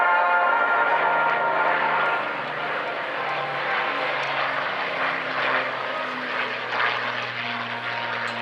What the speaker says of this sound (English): The Lancaster will give us one more flyby